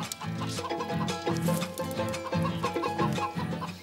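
Hens in a chicken coop cluck in a steady, repeating pattern, close and fairly loud, with no voices over them.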